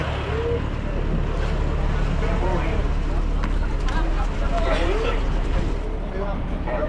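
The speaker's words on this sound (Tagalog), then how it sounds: "yung aming makina na laging inaalagaan ni Kuya Buboy." A fishing boat's engine drones at sea near Benham Rise, a steady low rumble under wind and water noise, with people talking over it.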